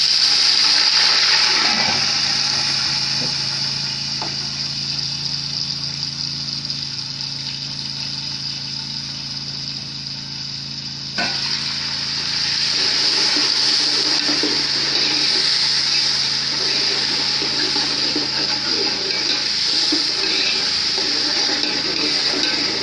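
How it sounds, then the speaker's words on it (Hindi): Water poured into a pan of deeply browned ingredients for kofta biryani, a steady rushing pour that runs continuously, growing slightly louder about halfway through, with a hissing, bubbling wash throughout. "अब इसमें हम पानी डाल देंगे।"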